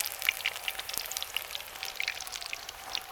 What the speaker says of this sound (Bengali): আমাদের চপ ভাজা চলছে